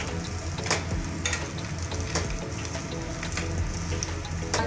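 Food frying in a pan with a dense, continuous close sizzle of oil and scattered crackling pops that sound almost like rain, steady and loud with no voices.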